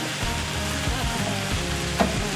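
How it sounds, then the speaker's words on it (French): Vegetables cook in a pan for a chicken and vegetable dish, giving a continuous moderate sizzle with a soft clink near the end and no voices. "Nous allons laisser mijoter nos légumes"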